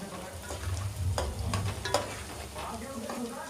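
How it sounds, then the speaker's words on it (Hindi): Onions browning in a pan for achar gosht, with a soft continuous sizzle and intermittent scraping stir strokes, heard fairly quietly and close with no talking. "अभी मैं प्याज ब्राउन कर रही हूँ।"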